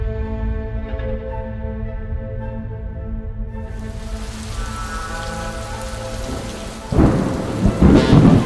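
Rain falls steadily on an outdoor surface with a low rumble of thunder through the storm; the downpour swells louder and harsher in the final seconds, with no voices.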